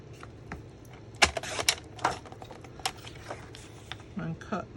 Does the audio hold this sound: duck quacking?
no